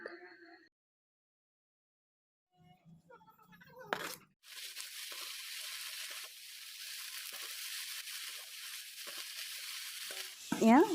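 After a brief quiet start with some voices, a steady crackling sizzle of fiddlehead fern greens frying in oil carries on for several seconds.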